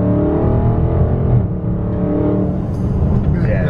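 Dodge Charger Scat Pack in track mode accelerating hard, a loud deep engine roar heard from inside the car with quick gear changes, and people talking over it.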